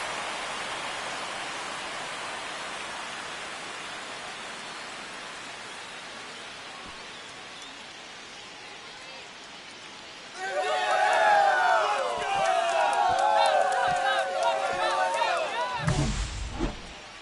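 A home baseball crowd in the MLB 25 video game gives a low, steady roar that swells suddenly into loud cheering, with bright horn or organ notes on top, after a walk-off grand slam.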